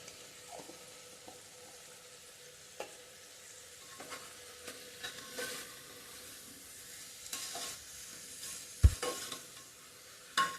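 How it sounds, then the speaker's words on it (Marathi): Sambar masala and salt being sautéed in a pot for sambar, quiet intermittent scraping and stirring strokes with a faint soft sizzle underneath, one sharper clank near the end. "हे सगळं असं छान परतून घ्यायचंय"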